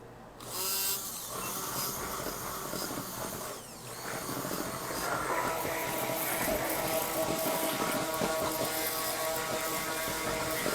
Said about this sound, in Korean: 핸드블렌더 이용해서 안에 기공 없이 아주 부드럽게 한번 만들어주세요